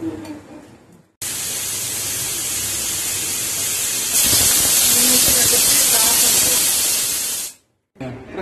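A pressure cooker holding green gram lentils vents steam in a loud, continuous hiss that starts abruptly, grows stronger midway, then cuts off sharply.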